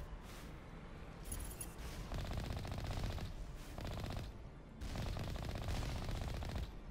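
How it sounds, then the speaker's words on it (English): Sustained rapid gunfire during combat in Mass Effect Legendary Edition, dense continuous bursts with brief gaps, loud and unbroken throughout with no talk. "Please stop shooting me."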